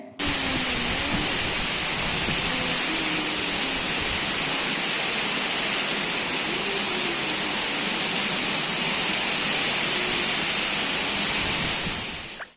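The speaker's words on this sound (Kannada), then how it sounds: "ಎಷ್ಟು ಜೋರು ಮಳೆ ಬರ್ತಿದೆ ನೋಡಿ" Heavy rain pours down in a dense, unbroken roar that stays loud and steady throughout, with faint chirps buried underneath.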